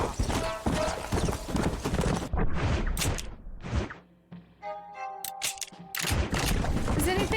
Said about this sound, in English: Why do all the horses run away from the Marston family?